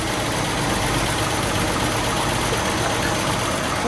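A 1965 Ford Mustang engine idles steadily with a dense, rumbling exhaust drone, loud and close, constant throughout with no talk over it.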